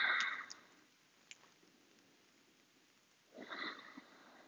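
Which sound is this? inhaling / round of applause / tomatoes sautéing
inhaling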